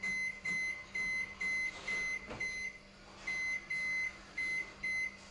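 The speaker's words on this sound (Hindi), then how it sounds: "और माइक्रोवेव कर देते हैं चालू।" A microwave oven beeps as it is switched on: a close, regular series of short, clear electronic beeps with brief gaps between them, heard alone.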